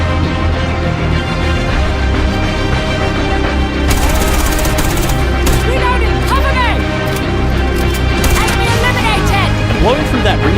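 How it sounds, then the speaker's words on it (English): Dense bursts of gunfire from Rainbow Six Siege crackle in sharp, rapid volleys over a busy game soundscape, with a voice talking throughout. "The sound effects from gunfire to footsteps are crisper,"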